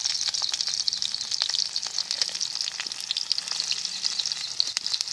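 Steady crackling sizzle of spices frying in hot oil, close and continuous, with a few sharper pops scattered throughout.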